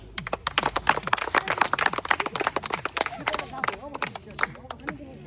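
An audience at an indoor spin game for food and toy car prizes claps in fast, uneven bursts close by, with voices talking and cheering through the applause.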